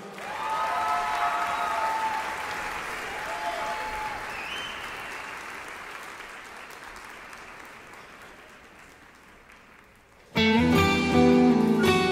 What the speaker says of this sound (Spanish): Por favor, un aplauso para Do Blanco nuevamente.